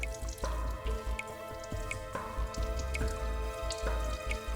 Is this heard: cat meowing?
no